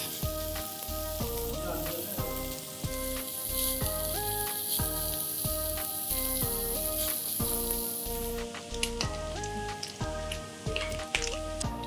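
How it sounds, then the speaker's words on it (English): Diced Canadian bacon bits fry in their own fat in a warm pan, a steady hissing sizzle running through most of the clip beneath prominent background music. "on a warm pan, not too warm mind you, we let the bacon bits cook in their own fat"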